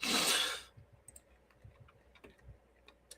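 Sparse, faint clicks of a computer mouse or keyboard follow a short burst of louder broadband noise at the start, with irregular single taps spread through a quiet room.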